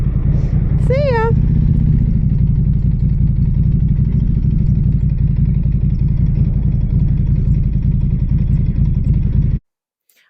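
A 2023 Norton Commando 961 SP motorcycle engine idles steadily and loudly up close, a continuous low rumble that cuts off abruptly near the end, with a brief whistle-like chirp early on.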